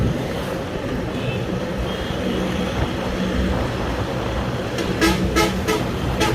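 A truck loaded with cement sacks rumbling past on a road amid steady traffic noise, with a few short horn toots near the end, fairly loud and close.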